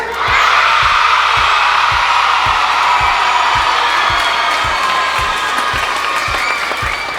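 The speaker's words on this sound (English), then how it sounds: "So give yourselves a round of applause." School children at a primary school clapping and cheering loudly, a dense roar of applause with whoops and shouts, close and sustained, with a rhythmic thump underneath.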